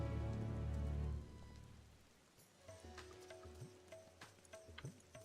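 Rain falls on a rainy night in Final Fantasy XIV, a soft steady patter under a brief swell of music that fades out, followed by quieter rainfall with scattered light taps.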